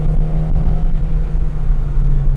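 Japanese rotary-engined mini pickup truck on the move, giving a loud steady low rumble and engine drone from inside the cab with no speech.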